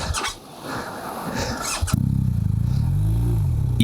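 An off-road motorcycle engine starts chugging after a muffled rustle, running loudly and close with a steady throb and slight rises in pitch.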